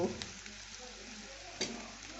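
A spiced mixture seasoned with salt, garam masala and black pepper being stir-fried in a pan: a faint, steady sizzle with a couple of soft spatula scrapes, no talking.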